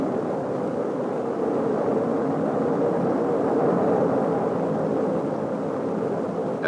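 Gemini 4 rocket engines roaring steadily after liftoff in 1965, a dense, continuous low rumble that holds at full strength for several seconds with no pauses.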